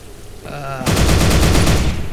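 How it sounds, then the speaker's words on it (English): A chain gun fires a rapid, steady burst in the video game Disdain, loud and close, rattling on without pause for over a second after a brief mechanical whir. "Right, so next up is the chain gun"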